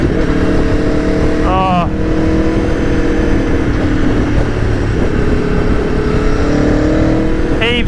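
Aprilia Tuono V4 1100 motorcycle on the road, a loud steady engine drone under smooth throttle with wind rush throughout, and a brief exclamation from the rider.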